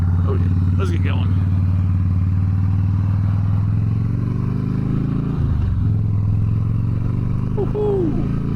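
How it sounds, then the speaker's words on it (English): A 2009 Harley-Davidson Softail Deluxe cruiser rumbles steadily at riding speed, a loud low engine drone with wind noise and a brief dip as the throttle eases, with the rider's voice faintly in places. "I haven't ridden a motorcycle like this in a while."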